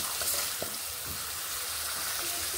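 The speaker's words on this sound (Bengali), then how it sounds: "মশলাগুলোকে একটু ভালোভাবে কষিয়ে নেব।" Spices for a veg dal fry in a pan with a dense, steady sizzle, close and even, punctuated by a few soft stirring knocks and scrapes.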